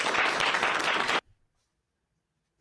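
An audience applauds loudly for about a second, then the clapping stops abruptly and a quiet pause follows.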